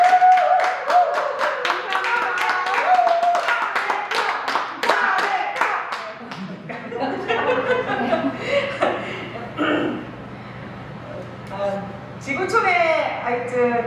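A church congregation at a Christmas afternoon worship service claps in a quick burst of handclaps mixed with chuckling and laughter, then talking carries on over fading claps.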